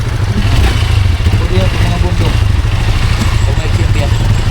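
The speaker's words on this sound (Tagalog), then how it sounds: "Gaganda ng mga motor nila dito kasi bundok po din eh." Motorcycle engine in a mountain area, running loud and close with a steady low throb and some revving, while people talk over it.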